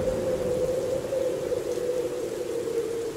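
Steady rain pours continuously as a cartoon sound effect, a dense even wash of drops with no breaks, alone and fairly loud throughout.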